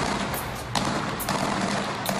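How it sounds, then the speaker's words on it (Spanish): Several faint, distant gunshots crack at irregular intervals over a steady background hiss, during a mass shooting in Puerto Rico. "Tirando balazos sin piedad."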